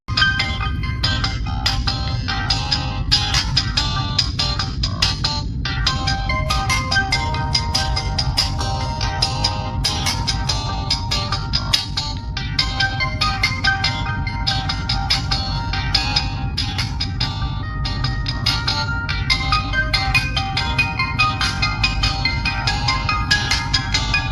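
A ringtone melody plays through the loudspeaker of an Infinix Hot 40i smartphone, a continuous, steady and fairly loud tune with layered tones that runs for the full stretch with no talking.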